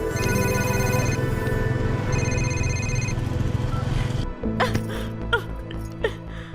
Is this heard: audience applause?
no